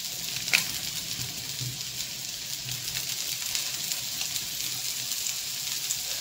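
Onions sprinkled with salt fry in a pan, giving a soft, continuous sizzle with occasional small pops and crackles, heard up close at moderate volume.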